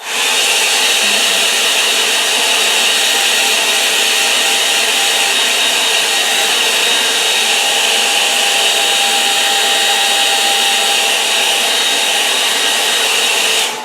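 Hair dryer blowing on a watercolour painting, a loud, steady, close whir with a high airy hiss that runs unbroken throughout, without any talk.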